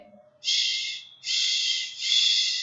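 A voice makes a long breathy whooshing hiss in three swelling gusts, imitating trees tossing in a storm wind.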